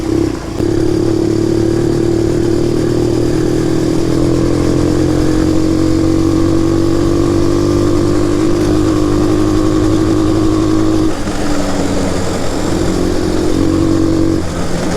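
Shineray 250 quad engine droning steadily as it climbs a hill, a loud continuous close-up motor hum with slight pitch shifts under load.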